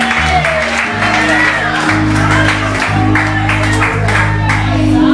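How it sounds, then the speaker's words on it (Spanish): A church congregation at an evangelical preaching service claps and cheers loudly, with shouts and whoops over a sustained low organ or keyboard chord and music underneath. "Den un aplauso a Cristo, amado."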